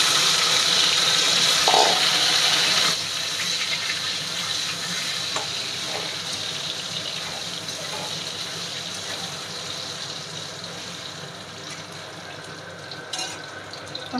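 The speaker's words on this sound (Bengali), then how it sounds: "এখন আলু আর কাঁঠাল একসঙ্গে ভেজে নেব।" Potatoes and jackfruit fry together in a pan for a Bengali jackfruit and prawn dish, with a loud, steady sizzle that eases a little after a few seconds and carries on without any talking.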